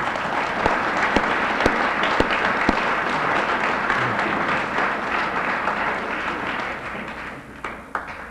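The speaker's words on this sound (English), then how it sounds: "And I want to thank you for that nice round of applause" Audience applause at a dedication ceremony for a Maryland state historical marker honoring Mother Jones: a crowd claps steadily and densely for several seconds, with a few sharper individual claps, fading slightly toward the end.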